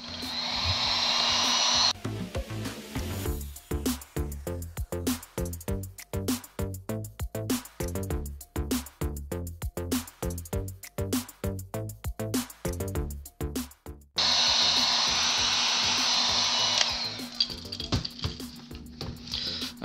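A heat gun heat-sets white paint on a Jake crankbait musky lure, blowing as a loud steady rush for about two seconds, cutting out while music plays, then returning as a continuous roar near the end.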